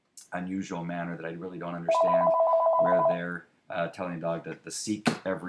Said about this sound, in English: sorry about my phone there